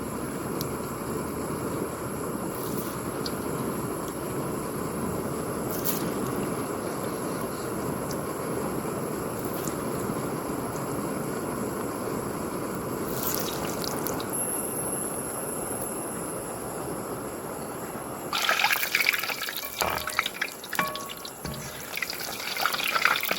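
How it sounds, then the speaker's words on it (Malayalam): Masala kolli vada, spiced tapioca fritters, deep-fry in hot sunflower oil in a village kitchen with a continuous, even hiss that grows louder and more crackly toward the end. "നമ്മുടെ ഓയിൽ നല്ലപോലെ ചൂടായിട്ടുണ്ട് ഓരോന്നിട്ട് ഫ്രൈ ചെയ്തെടുക്കാം"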